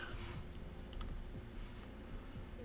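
Quiet typing on a computer keyboard, a short run of soft, irregular key clicks heard close up in a calm room, with no voice over it.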